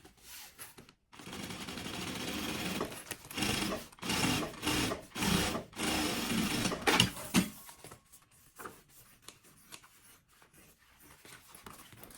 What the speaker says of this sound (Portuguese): Quando eu quero uma peça um pouco mais estruturada, eu vou e costuro, coloco 2 camadas de EVA.